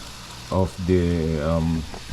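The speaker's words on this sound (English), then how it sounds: "you have the oil in there frying, and the water is going to steam the tops of the" A steady, soft sizzle of dumplings frying in oil with water steaming their tops hisses in the background while a humming, voice-like tone rises over it.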